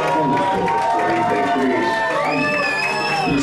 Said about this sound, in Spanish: Un gran aplauso para Michelle.